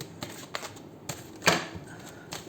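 Tarot cards being shuffled by hand, a few soft riffling bursts with one louder flutter near the middle, close and quiet with no talking.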